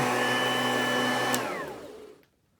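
An Oreck XL21 lightweight upright vacuum cleaner runs with a steady, loud motor whine, then switches off and spins down, its pitch falling and fading to silence over the last second.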